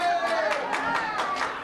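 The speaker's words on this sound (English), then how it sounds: "I knew that would bring a very loud, sufficient round of applause." Short burst of clapping from a small crowd at a class of '71 twenty-fifth reunion, several pairs of hands slapping quickly and unevenly at close range.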